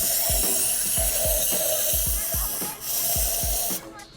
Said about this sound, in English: we're just gonna spray a bunch in here